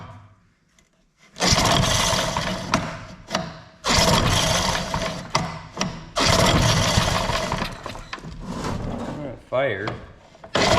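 Recoil pull-starts on a vintage 1955 Firestone push mower engine set up on a lift: several loud bursts of rough cranking and brief engine sputter, separated by short pauses, close by.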